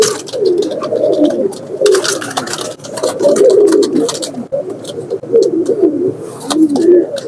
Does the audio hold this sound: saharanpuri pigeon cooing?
yes